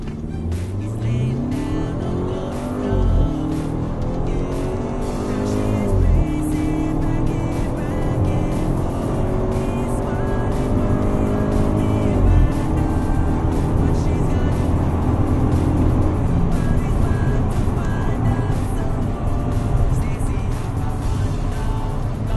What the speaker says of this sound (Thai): เดี๋ยวผมลองเทคออกจากจุดหยุดนิ่งให้ดูเลยดีกว่านะครับ